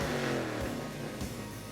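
A car engine revs hard at a redneck street race, one short, rising roar heard at moderate distance.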